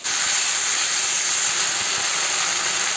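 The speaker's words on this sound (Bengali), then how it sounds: "এইভাবে আমি মশলাটা কষিয়ে নিচ্ছি।" Masala spices fry and sizzle in a pan as a loud, steady hiss that continues unbroken throughout, with no one speaking.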